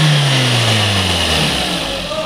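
A Suzuki Ertiga engine that has had a pulley bearing replaced to cure a noise is revved loudly and up close, its pitch sliding smoothly as the revs change. A voice is faintly present beneath it.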